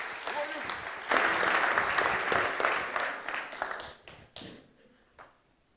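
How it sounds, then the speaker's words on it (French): Audience applause at a conference keynote: a dense, steady clapping of a sizeable crowd in a hall that swells, holds for several seconds, then thins out into scattered last claps. "Un tonnerre d'applaudissements pour eux, s'il vous plaît."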